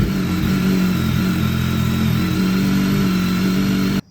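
A BMW K1200 motorcycle engine at operating temperature runs at a steady, even idle, close and continuous, cutting off abruptly at the end.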